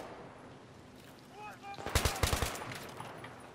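Gunfire in Battlefield 3, a quick cluster of sharp rifle shots ringing out in a short burst after a brief electronic tone, moderately close with faint background game ambience.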